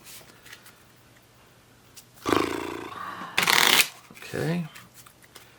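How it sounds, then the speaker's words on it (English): A deck of cards shuffled by hand during a tabletop game of Arkham Horror, with two loud riffling bursts close to the microphone followed by a softer rustle. Someone speaks a word briefly at the end. "I'm terrible at shuffling."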